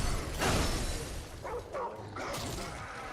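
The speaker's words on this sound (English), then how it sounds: "Summon our dog." A summoned dog companion in a video game barks a few times, with short yips and bursts cutting through busy game sounds and whooshes.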